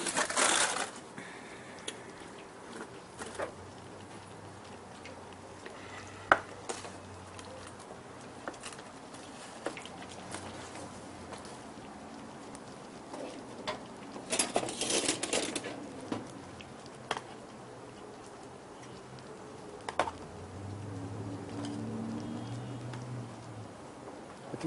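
Soft crushing and tapping of grilled onion being mashed, scattered small squishes and clicks at close range, quiet, with a few louder bursts near the middle and end.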